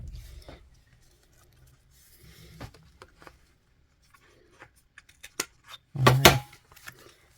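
Scissors snip through paper to round off a corner on a junk journal page, a few quiet cuts followed by a louder cluster of close snips near the end, with light handling rustles between them.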